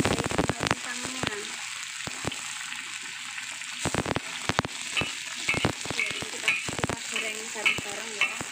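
Tofu and garlic frying in a pan, a steady sizzle with stirring clatter and scraping of a utensil, fairly close and continuous, with brief spoken remarks at points.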